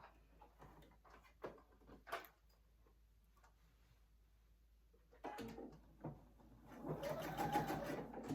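A sewing machine runs a long temporary holding stitch about 1/8 inch from the edge of a zipper project bag, with short bursts early on, then a louder, sustained whirring run toward the end; no one speaks.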